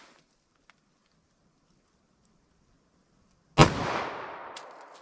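A single loud gunshot from a .40 S&W pistol firing 155 grain ammunition over a chronograph cracks sharply after a quiet stretch, then rings out in a long decaying outdoor echo.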